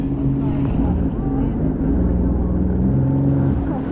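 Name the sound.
jet ski engine slowing on water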